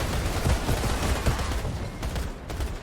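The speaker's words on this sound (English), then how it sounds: "Sniping with a light machine gun because why not?" Sustained light machine gun fire in the video game Outriders, a dense continuous rattle of rapid shots filling the whole moment, loud and close with no pauses.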